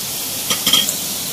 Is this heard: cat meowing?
no